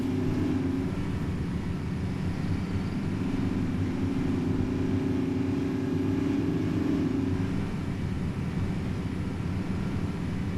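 Truck engine droning steadily while driving in the hunting game Way of the Hunter 2, a loud, constant low rumble with no talk over it.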